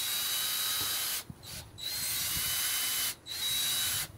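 A power drill whirs in steady bursts, stopping briefly twice between runs as it drives screws into metal hairpin legs on a wooden table, close and fairly loud, with no talking.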